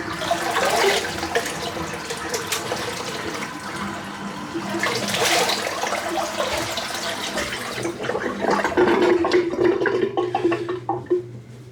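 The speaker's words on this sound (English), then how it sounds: "Rinse the brush out." Tap water runs and splashes as a shaving brush is rinsed, a continuous rushing flow that shifts in intensity as the brush moves under the stream, with no voices.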